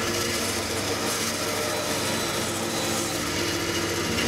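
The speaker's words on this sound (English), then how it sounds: "So I'm just going to cut this down now, and that is actually going to end up being our trigger here." A piece of wood is being sawn to shape into a crossbow trigger, a continuous close rasping that holds steady and loud throughout, with no talk.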